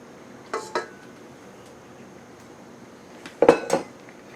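Two quick metallic clanks of a pan, a pause, then a louder clatter and clink as the pan of Dutch baby pancake batter goes back into the oven, no talking.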